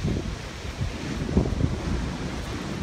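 Strong wind buffets the microphone on a seaside pier, a continuous loud roar with gusty swells and no talking.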